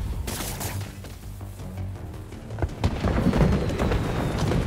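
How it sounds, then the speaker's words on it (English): Lit fireworks in the Spider-Man 2 video game burst in a rapid crackling barrage of booms and pops, growing denser and louder toward the end. "The fireworks. They're lit."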